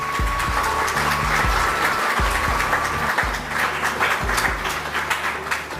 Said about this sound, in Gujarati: તમામ મહાનુભાવો એક પાસ જોરદાર તાળીઓ થઈ જાય એમના માટે.